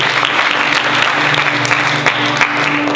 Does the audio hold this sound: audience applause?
yes